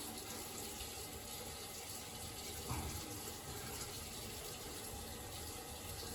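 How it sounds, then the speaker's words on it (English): A chrome brass sink tap runs at full flow, a steady close rush of water with a brief clunk midway, no talking. "Let's turn on some water. The water's on full."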